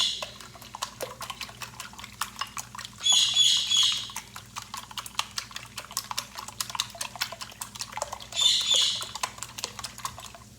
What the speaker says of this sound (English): I have a bird